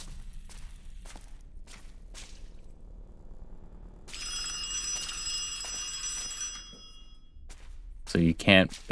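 Telephone ringing in the horror game Ad Infinitum: one shrill, bright ring burst of about two and a half seconds over a quiet, low background, with soft footsteps and thumps before and after.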